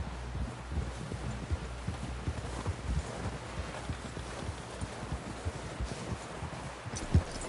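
A horse in the Red Dead Redemption 2 video game clip-clops at a steady walking pace, hooves thudding rhythmically over soft ground amid rustling ambience, with a louder hoof strike near the end.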